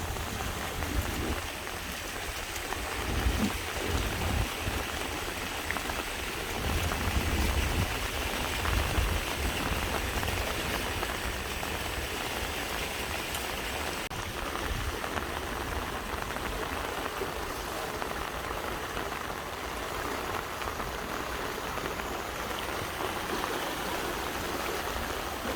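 A river running high rushes past in a steady, loud, broadband wash of flowing water, continuous and close, with no talking over it.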